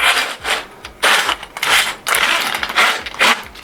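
A toilet auger is handled close up, giving repeated bursts of rubbing and scraping metal-on-plastic noise in an uneven rhythm, with no talk.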